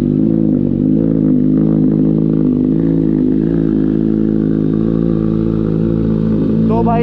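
Kawasaki Z900 superbike engine running loud and close after a cold start, a steady deep idle with slight rises in revs throughout, with no pause or silence.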